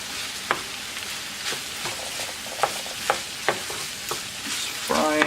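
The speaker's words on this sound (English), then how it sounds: "You can hear that all cooking together here." Chicken fried rice with egg sizzles and fries steadily in a hot pan, with a utensil scraping and clacking against it every second or so.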